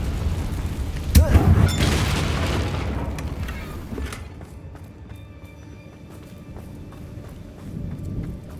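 Confringo fire spell explosion in Hogwarts Legacy, a sharp boom followed by a rumbling burst that fades over a few seconds into quieter background game ambience.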